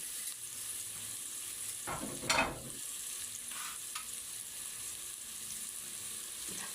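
Vegetables sauté in a pan for ginataang gulay, a soft steady sizzle with a short burst of scraping and stirring near the middle and a few lighter stirs after, close by and without talking.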